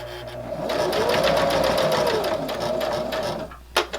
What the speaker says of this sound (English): slide it under my machine, and I'm going to stitch all the way around.